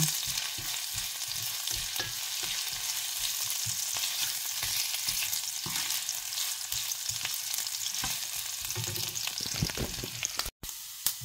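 Ginger toasting in a hot pan with oil, a steady crackling sizzle broken by frequent scraping stirs, close and loud, with no one speaking.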